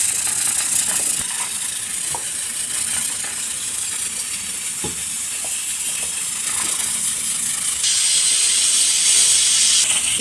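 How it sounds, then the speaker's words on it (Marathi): A pressure cooker cooking dal on a gas stove hisses steadily with a few light clicks, then lets out a louder, sharp steam whistle for about two seconds near the end. "कुकरच्या शिट्ट्या झालेल्या आहेत"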